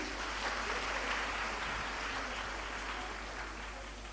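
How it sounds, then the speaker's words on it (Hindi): Women at the back of an audience at a school event applaud loudly, a dense continuous wash of clapping that fades slightly toward the end. "एक बार पीछे की बहनें जोरदार तालियां बजाएं"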